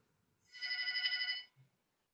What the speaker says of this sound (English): you have a phone call right there.